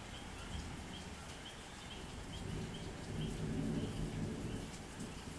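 Thunder rumbling during a thunderstorm, a low rolling roar swelling and fading over steady rain, with faint bird calls in the background.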